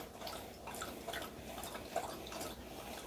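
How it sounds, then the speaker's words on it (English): Soft, steady lapping and slurping of water against a quiet background hiss, continuous and close but faint. "Can you hear my dog drinking her water?"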